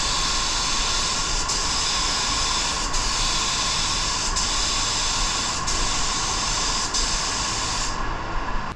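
Steady, loud hiss of an Avalon A60 spray gun with a 1.3 tip laying down a silver metal flake base coat on a lowrider, continuous with brief dips and stopping just before the end.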